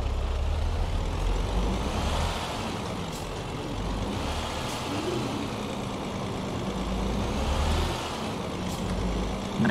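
A Greyhound bus in American Truck Simulator rumbles steadily with a low engine drone and road noise, heard alone and continuous, with a faint hiss and brief rises in the engine note.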